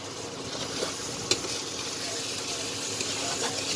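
A paste of ground ginger, garlic, onion and cumin fries in a pan for a jackfruit curry, giving a steady, fairly quiet sizzle that continues throughout with one brief sharp tick.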